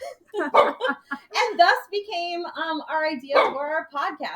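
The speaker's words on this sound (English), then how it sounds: "That's our dog barking in the background," A household dog barks in the background, its short yips faint and partly buried under a person talking close up.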